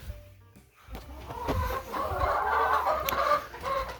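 Egg-laying hens cluck and murmur close by in a short run of throaty, irregular clucks with a bit of rustling, and no talking.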